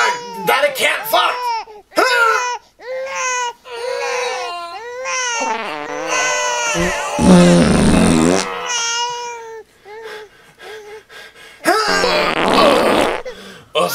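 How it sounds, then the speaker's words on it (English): A cartoon fart sound effect in a puppet comedy sounds as a loud, buzzy blurt of about a second near the middle. Babyish crying and whimpering voices come before and after it. "It's a good thing I finally farted."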